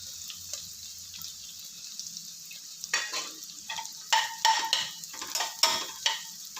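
Ginger paste dropped into a hot pan for ghee rice, a soft sizzle that starts faint and grows into bursts of spattering frying noise, close and fairly quiet, with no talking.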